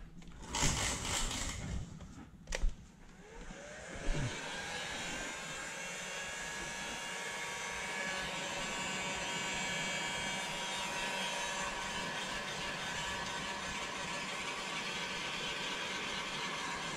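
A heat gun shrinking window tint film on a window runs as a steady, loud broadband blowing roar throughout, with a few sharp knocks and handling noises in the first seconds.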